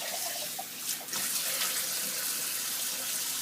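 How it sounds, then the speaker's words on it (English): Tap water runs steadily into a kitchen sink while a dish is rinsed out by hand, a continuous close splashing rush with a brief shift in the flow about a second in. "I always rinse it out with my hand first."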